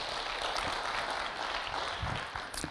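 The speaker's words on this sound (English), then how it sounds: "Give them a warm round of applause there," An audience gives a warm round of applause to event organizers at a cold-calling training session; the clapping is a faint, distant, steady patter with no voices.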